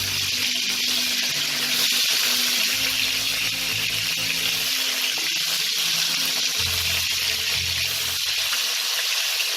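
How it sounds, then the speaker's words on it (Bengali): Bhetki fish pieces frying in oil give a loud, continuous sizzle and hiss, with a low rumble underneath and no speech. "মাছটা এক পিস ভালো করে ভাজা হলে আমি উল্টে নেব।"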